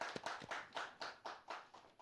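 Applause greets a guest on a Turkish folk-music television program. What comes through is a single pair of hands clapping in an even rhythm, about four claps per second, each one a sharp hit that fades off, fairly faint and with no talking over it.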